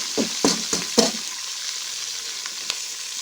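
Onions hit hot ghee and fry in a steady, close sizzle, opening with four quick clacks of a spoon stirring the pan before the hiss settles alone.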